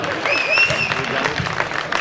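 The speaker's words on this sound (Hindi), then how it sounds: "ताली बढ़ जाए पीछे वालों का" An audience at an outdoor poetry gathering in Waidhan, Singrauli district, Madhya Pradesh, breaks into sustained, crowded applause, with voices and a brief whistle-like tone riding over the clapping.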